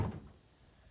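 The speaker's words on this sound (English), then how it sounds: "Okay, door's locked." A single short, muffled thunk of a Lincoln MKX driver's door lock engaging, close by, then quiet.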